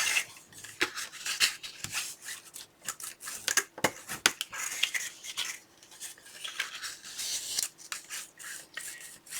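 A bone folder creases paper hinges for a scrapbook album, giving repeated close, dry scraping and rubbing strokes in an uneven rhythm, fairly quiet, with no talking.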